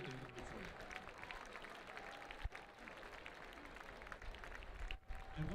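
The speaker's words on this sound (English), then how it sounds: "Please join us in a round of applause for the Rose of the 1976 Johns Hopkins men's lacrosse team" Crowd applause from a men's lacrosse game between Maryland and Johns Hopkins, steady and dense throughout, with a stadium announcer's voice and crowd murmur mixed in.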